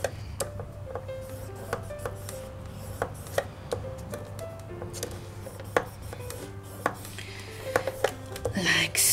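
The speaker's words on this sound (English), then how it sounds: "All you're going to do is score at every half inch." Card is scored at half-inch intervals for a concertina box, giving a series of soft, close scraping and tapping strokes in an irregular rhythm, with a low hum underneath and talking in the clip.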